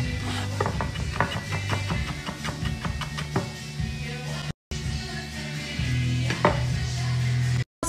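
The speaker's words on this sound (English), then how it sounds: "Chop up those chilies." A knife finely chopping chillies on a board, rapid regular sharp taps in quick bursts, close and clear, with a steady hum beneath and a brief cut in the middle.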